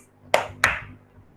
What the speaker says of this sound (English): Clap 2 times.